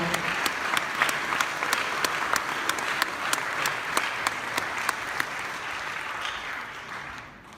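Applause from the crowd at a French magic-convention opening gala, with sharp, regularly spaced claps over a steady bed of clapping that holds for several seconds and then tapers off.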